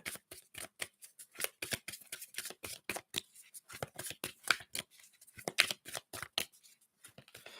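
Tarot cards being shuffled and flicked, a rapid irregular series of crisp papery snaps and riffles, close and fairly quiet.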